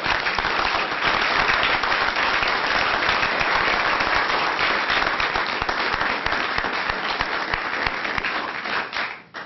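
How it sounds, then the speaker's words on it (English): Sustained, strong applause at a city council meeting for an award recipient, a thick wash of many hands clapping that holds steady for several seconds before cutting off. "Let's give her another round of applause."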